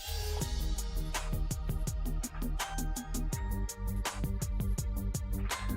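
A Game Chops video game music track plays with a steady rhythmic beat of regularly repeating percussive hits over sustained tones, fairly quiet and without talk.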